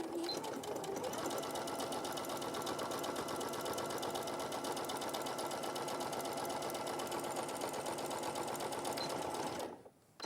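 A sewing machine stitches up a small hole in one steady, continuous whirring run with a fast mechanical rhythm, close and even throughout, then stops abruptly near the end.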